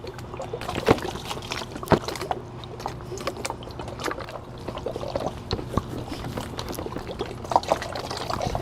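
Water in a homemade spinning whirlpool science experiment swirls and sloshes continuously, with gurgling, trickling and splashing at close range and occasional sharper sloshes, with no speech.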